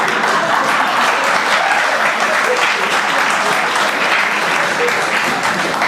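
Audience at a kavi sammelan poetry gathering in Jabalpur claps loudly and steadily, a dense, continuous applause that holds for the whole stretch without pause.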